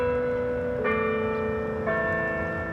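Church bells ringing in Windsor, Colorado, two clear resonant strikes about a second apart, each leaving a long ringing tone that sustains and overlaps, heard fairly close and alone.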